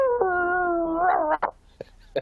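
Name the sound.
person imitating a hound dog howl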